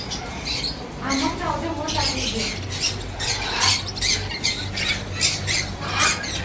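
Parrots squawk in bursts through a busy bird market in Sharjah, with other birds chattering and calling while people talk in the background.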